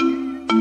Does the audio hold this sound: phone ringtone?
yes